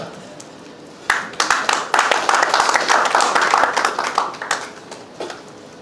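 An audience at an event in Ongole claps in waves of scattered, uneven hand claps that swell into sustained applause, then thin out toward the end, with a speaking voice underneath.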